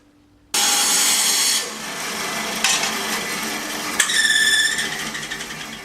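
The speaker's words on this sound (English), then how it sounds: "probably just rip this in half on the bandsaw" A bandsaw starts up and rips a piece of wood for a tape rack in half, a loud steady buzzing cut with the pitch shifting and a whining, rasping stretch near the end.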